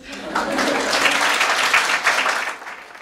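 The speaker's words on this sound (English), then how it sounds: "We can clap again." Panel audience at a career fair breaks into a round of clapping, a dense, steady patter of many hands that swells quickly, holds for a few seconds and tapers off near the end.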